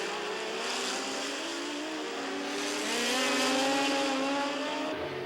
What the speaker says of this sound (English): Then, powering out of the corner, he leads down the Rue de Colon straight ahead of Crawford, then Campbell, and Romano